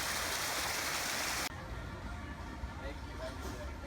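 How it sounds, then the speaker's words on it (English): Rushing stream and waterfall on Tom Sawyer Island at Magic Kingdom, Walt Disney World, a steady broadband roar of churning water that drops abruptly to a softer, more distant wash of flowing water partway through, with no talk. "I wanted to show this beautiful waterfall rushing stream thing here"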